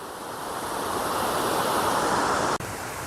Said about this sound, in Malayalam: ആ തട്ടിലൂടെ ഇങ്ങനെ വെള്ളം ഒഴുകി വരുന്ന നല്ല ഭംഗിയില്ലേ